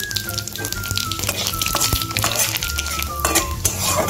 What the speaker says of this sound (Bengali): মাছ ভাজা তেলটার মধ্যে আমি একটা শুকনো লঙ্কা দিয়ে দিলাম কালো জিরাও দিয়ে দিলাম